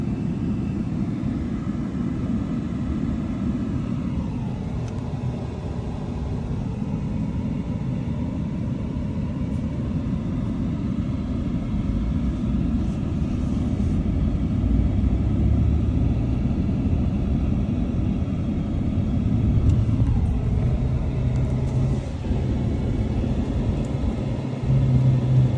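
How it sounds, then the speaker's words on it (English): Heavy equipment idles near a flipped truck beside I-4 at the Champions Gate exit, a continuous low engine rumble with passing traffic swelling and fading over it, steady and fairly close, with no talk. "I think they're gonna use that truck, this heavy equipment, to move this big thing out the way."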